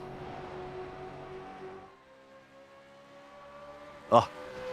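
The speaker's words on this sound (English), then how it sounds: "Can you hear the cars enough out there? Because in my ear, they sound spectacular." Simulated V8 Supercar engines racing at the Nürburgring in iRacing, a steady engine drone that fades partway through, then a sharp short burst near the end.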